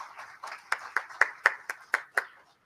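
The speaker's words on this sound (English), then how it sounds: "Let us all give the admissions team a great round of applause" A small group at an MBA inauguration gives a brief round of applause for the admissions team, about ten distinct claps in an uneven rhythm, close and fairly quiet, fading out after a couple of seconds.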